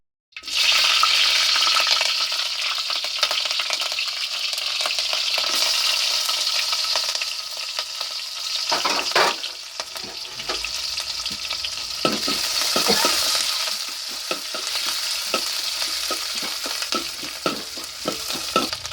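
Mustard seeds fry in two spoons of hot oil for a ripe mango curry, making a loud continuous sizzle scattered with sharp crackles and pops, with no talking.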